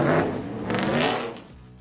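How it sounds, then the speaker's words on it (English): A BMW P60B40 race-derived inline-six screams at high revs, a raw, metallic, NASCAR-like wail that rises and sustains for under two seconds, loud and close with no talk. "the P60B40 screams. It's raw metallic"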